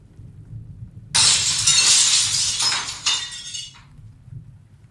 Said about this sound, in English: Two of the windows imploded. A driving rain of glass sprayed over the receptionist's body